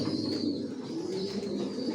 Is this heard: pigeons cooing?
yes